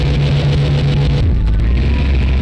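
A car in a dating simulator game pulling away slowly, a steady loud engine drone whose pitch drops and settles midway as the vehicle starts to move.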